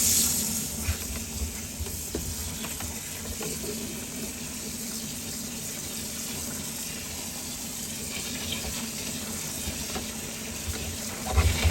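Food being rinsed under a running kitchen tap while making a simple taco soup, a steady close hiss of flowing water that continues evenly throughout with no talk.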